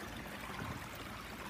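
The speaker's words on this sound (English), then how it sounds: "a 100-foot long stream, balanced ecosystem called a Pondless waterfall" Water runs steadily through a 100-foot pondless waterfall stream at a school, a constant close wash of flowing, trickling water with no pauses or voices.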